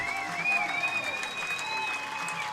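A baseball crowd gives a standing ovation to a pitcher leaving the mound during a finals game, with sustained applause and whistling cheers at close range, steady throughout with no announcer voice.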